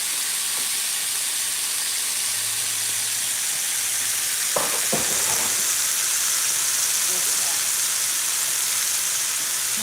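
Chicken pieces sear in a lightly oiled pan, a loud, steady close-up sizzle and hiss throughout, broken by a few sharp utensil clinks midway, with faint brief talk in the background.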